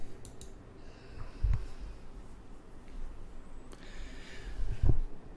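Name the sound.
computer mouse clicking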